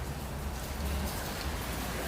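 Rain falling outdoors at a rooftop flat in Hong Kong, a faint, steady hiss of drops on surfaces with a low rumble beneath, continuous and distant, no voices.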